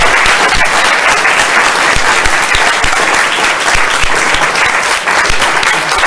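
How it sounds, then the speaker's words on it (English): Sustained applause from a forum audience for a climate discussion panel, dense steady clapping filling the whole stretch with no voices over it. "Let's have a round of applause for all of our panelists"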